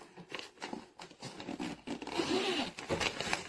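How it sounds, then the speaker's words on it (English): Zipper on a hard shell suitcase with TSA lock and four spinner wheels being pulled open, a close, continuous rasping run of teeth with uneven bursts and short pauses over about three seconds. "You notice that this zipper, that when it opens, it gives access to the wheels assemblies in there"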